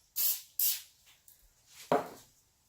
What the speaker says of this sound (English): I'm gonna spray my spatula as well